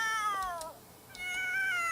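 A cat in The Sims 3 meows twice, two clear, fairly loud calls separated by a short pause, with no talking over them.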